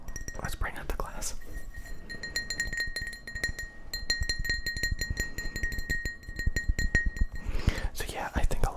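Soft glass clinks and light tapping as a glass is picked up and handled close to the microphone, a few small chimes over gentle whispering.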